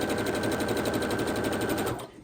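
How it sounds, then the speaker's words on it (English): Sewing machine chain stitching scrap quilt blocks together, a steady, close, rapid whir that runs evenly for about two seconds before cutting off. "by chain stitching all of these blocks together"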